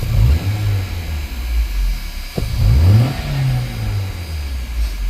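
An Alfa Romeo 159 with about 120,000 miles and a worn clutch runs close by, its engine idling with a low steady drone, then revving up twice in quick swells before settling back.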